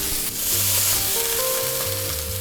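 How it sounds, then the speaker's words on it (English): Chicken pieces fry in a single pan for a creamy Dijon dish, giving a steady, close, loud sizzle with a dense crackling hiss throughout and some low tonal hum underneath, with no voices. "So I'm just gonna let it cook for another minute or so on this side"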